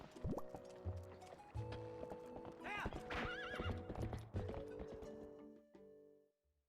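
Epona, the video game horse, neighs with a loud, wavering whinny amid rhythmic galloping hoofbeats and game sound effects, close and prominent before fading out at the end.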